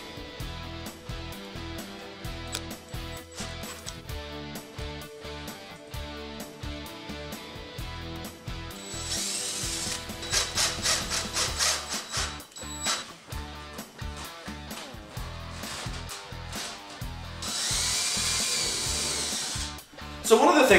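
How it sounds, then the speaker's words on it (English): A power drill whirs in repeated bursts, drilling holes and driving screws into PVC dust collection pipe, alongside clicks and knocks of handling, with a louder sustained drilling stretch near the end. "I'm going to drill holes every few feet and insert these screws"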